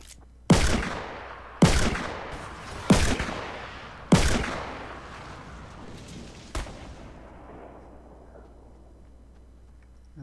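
Five loud sniper rifle shots from a video game fire at uneven intervals, each a sharp crack followed by a long rolling echo, with the last shot weaker.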